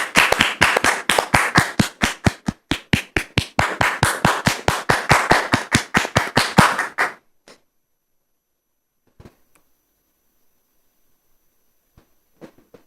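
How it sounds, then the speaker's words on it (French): A single pair of hands claps rapidly and evenly for about seven seconds at a gathering, then stops, leaving near silence broken by a few faint knocks. "nous allons recevoir maintenant Dame Rose sous vos applaudissements, très chers frères et sœurs"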